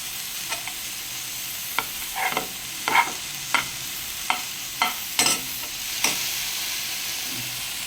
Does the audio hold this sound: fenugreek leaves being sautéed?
yes